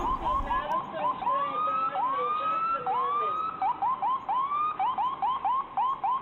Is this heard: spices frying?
no